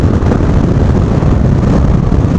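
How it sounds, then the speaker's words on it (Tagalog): Loud, steady wind roar buffeting the microphone during a ride on a highway toll road, a dense continuous low rumble with no speech over it. "Grabe lakas ang hangin."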